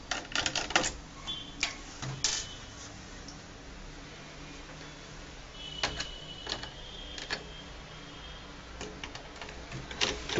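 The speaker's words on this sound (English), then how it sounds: "You have to remove all these screws." Screws come out of the base of a Dell 15R laptop, with scattered small ticks and clicks in quiet bursts, some close together and others spaced apart.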